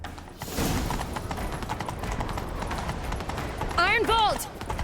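A horse galloping in The Witcher 3, steady hoofbeats under constant game ambience, with a few sharp tonal sweeps rising near the end.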